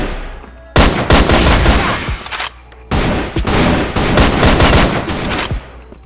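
Loud bursts of automatic gunfire in a tactical shooter match, two long rattling volleys separated by a short pause, close and harsh.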